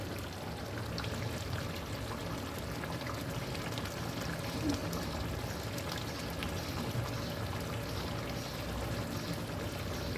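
Fresh cream is poured into a mixed vegetable curry in the pan, a soft, steady, continuous pouring hiss that stays faint and unbroken for several seconds.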